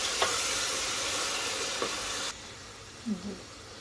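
Onions fry in a pan with a steady, close hiss and sizzle that drops suddenly partway through, followed by a few soft clinks and stirring sounds.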